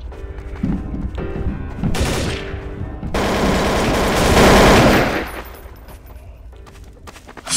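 Counter-Strike: Source gunfire: bursts of automatic rifle shots in loud clusters, building into a sustained heavy barrage midway before tapering off.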